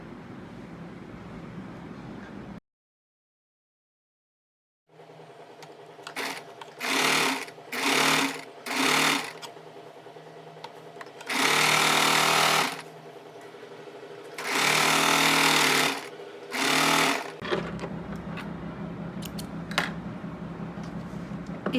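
A sewing machine stitches the pleat seams of a palazzo, starting in short quick bursts of rattling needle noise and then running in longer loud stretches, close up, with a gap of silence near the start.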